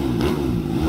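A racing motorcycle runs on a dyno test bench after a race, its engine holding a steady, loud, continuous drone with a low harmonic buzz throughout.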